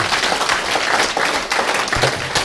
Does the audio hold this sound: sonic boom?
no